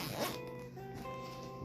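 A zipper on a camera bag drawn open in one short, close rasping pull, quiet and alone.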